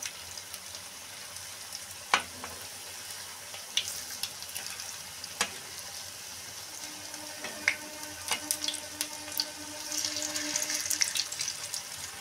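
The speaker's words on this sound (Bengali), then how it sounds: "মা এবার মিশ্রণটা থেকে গরম তেলে ভেজে নিচ্ছে" Spinach kofta fritters crackle and sizzle in hot oil, soft irregular pops and spits over a low frying hiss, with a few clinks and a brief watery rush near the end.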